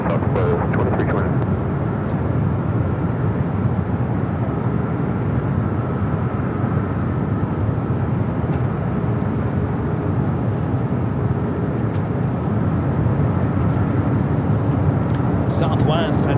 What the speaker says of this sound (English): Southwest heading to Phoenix, flight 2329 at 737-800, now rolling down at 24 left.